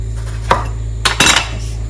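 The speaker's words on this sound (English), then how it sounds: "I'm going to remove the seed from the tomatoes" Metal utensils clink and scrape against a dish while seeds are scooped from fresh tomatoes, a few sharp close knocks over a steady low kitchen hum, with no voices.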